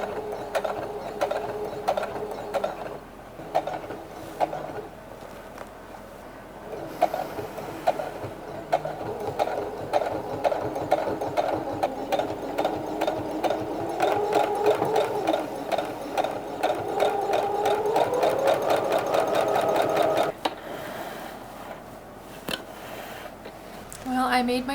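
A sewing machine stitches stretchy blue fabric with a close, continuous mechanical whir and rhythmic needle clatter. Its pitch rises as it speeds up, and it stops briefly partway through as the presser foot is lifted.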